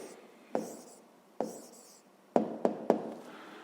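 Pen writing down the answer to a fifth-grade math exercise, with a few sharp taps of the pen on paper spaced irregularly between soft scratching strokes, close and quiet.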